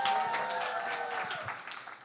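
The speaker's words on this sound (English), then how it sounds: "Give me a round of applause for Gabrielle" A conference or talk audience applauds a guest speaker with light, fairly distant clapping under some tonal hum and faint voices, tapering off near the end.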